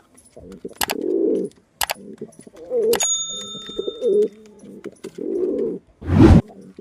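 Pigeons coo repeatedly close by in low, throaty rolling bursts separated by short gaps, with a few sharp clicks, a thin ringing tone, and a louder flutter-like burst near the end.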